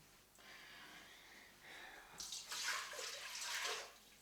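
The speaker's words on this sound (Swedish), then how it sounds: "Och då börjar man med att koka upp 1 liter vatten." Water runs from a tap into a vessel, a liter drawn for boiling, starting faint and growing to a louder, splashing flow in the second half.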